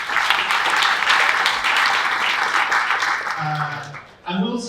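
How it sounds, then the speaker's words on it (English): Sustained applause from a pitching competition audience, steady clapping and some cheering that fades near the end, followed by a voice starting to speak. "Please give a big round of applause."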